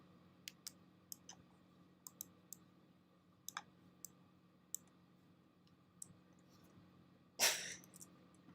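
Faint, sharp clicks recur at irregular intervals on a quiet live-stream audio feed, and a louder, breathy burst arrives near the end.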